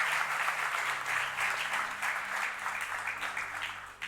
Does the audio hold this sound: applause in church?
yes